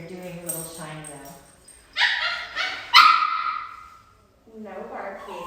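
A dog barks in a few sharp, close yips and whimpers, loud and bright, with quieter stretches between them and a person speaking nearby.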